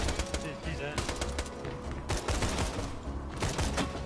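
Rapid continuous gunfire from a minigun-style weapon in the video game Borderlands 2, dense loud repeated shots with brief lulls, game sound effects mixed in.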